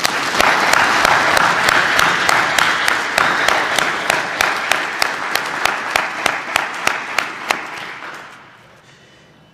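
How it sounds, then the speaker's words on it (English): A graduation audience applauds the graduating basic classes, starting as a dense crowd wash that thins into a few loud, evenly spaced claps before fading out near the end. "let's applaud the graduates"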